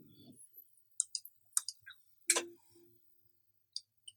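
A computer mouse clicks while a rectangle is drawn and dragged in Adobe Illustrator: sparse, sharp single and double clicks, close and quiet, spread unevenly across the stretch with silence between.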